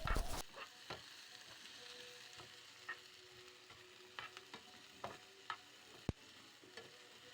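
Sardine roast masala being stirred in a pan, with scattered scraping clicks and taps of the spoon over a quiet, faint sizzle, one sharper knock near the end, no talking.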